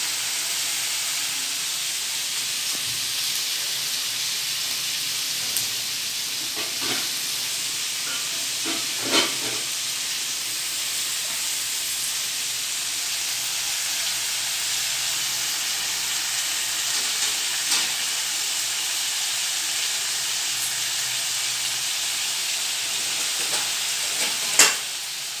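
A covered pan of mixed vegetable curry with field beans, brinjal and potato simmers on a low gas flame, giving off a steady soft sizzle and hiss with occasional faint pops and lid clinks throughout.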